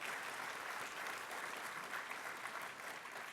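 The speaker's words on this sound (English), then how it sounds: "Please give them a round of applause." Conference audience clapping for event staff, an even, continuous round of applause from a large room, fairly quiet and distant.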